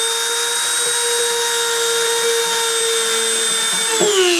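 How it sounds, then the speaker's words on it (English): A machine spindle runs for a deposition process with a loud, steady high-pitched whine and layered tones, close by, shifting in pitch near the end, with no voices. "I'm going to spin the spindle up and start the deposition."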